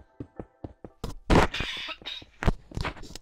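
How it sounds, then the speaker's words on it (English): Several hard, abrupt coughs from a person who is ill, loud and close, bunched together in a short burst after a few soft knocks, with no talk. "I still got a cough."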